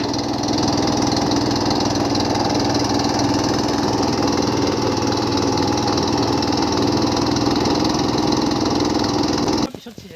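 A loud boat engine drones steadily and evenly throughout, then cuts off sharply just before the end.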